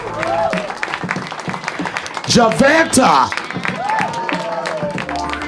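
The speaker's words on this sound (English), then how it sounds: "Give her a round of applause, ladies and gentlemen." Audience applause for the show's co-host, Javanta Roberts, runs beneath a voice that keeps talking over the clapping throughout.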